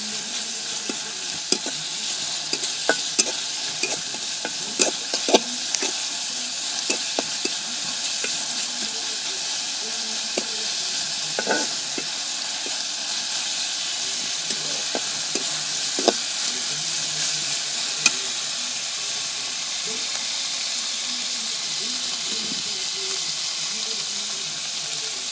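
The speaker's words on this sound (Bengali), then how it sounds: "এভাবে করে ভেজে নিচ্ছি" Okra sizzles steadily in a pan while a spoon scrapes and stirs it in irregular clinks and scrapes, close and continuous over about twenty-five seconds of village-style home cooking.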